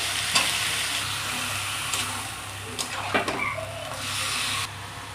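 Steady close sizzling of marinated chicken frying in hot oil, with a few stirring scrapes and clatters breaking through the hiss.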